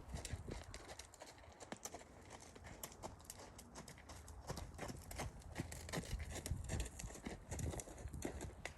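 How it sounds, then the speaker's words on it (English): A mustang's hooves strike the ground in a steady, repeating rhythm while the horse is ridden in an arena, with soft thuds that are fairly faint and close. "Another day of riding in the arena."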